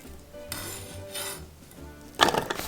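A food chopper mincing a plump garlic clove, a hot chili and half a small onion gives short bursts of whirring, rattling blade noise in separate pulses, ending in a louder burst of clattering chopping.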